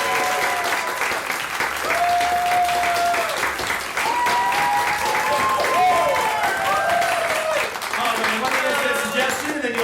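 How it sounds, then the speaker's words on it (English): A large audience applauds steadily for several seconds, with cheers and whoops rising over the dense clapping. "Let's welcome them back in with some applause."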